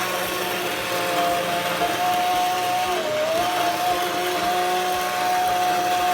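A handheld immersion blender wand purees a pot of mushroom soup, giving a steady close motor whir with a sustained high tone that dips briefly as it works through the thick soup, with no talking.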